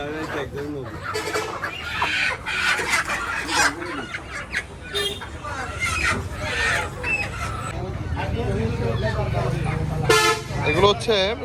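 Roosters, each over two kilograms, tied up for sale at a rural hill-area market, clucking and crowing repeatedly amid busy market chatter, with occasional vehicle horns honking in the background.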